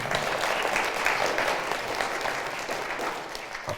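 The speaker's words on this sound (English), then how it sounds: "so I think that's another round of applause" Audience applause at a Churches Together for Chesham gathering, a steady dense wash of many hands clapping throughout, fairly full and close, with no talk over it.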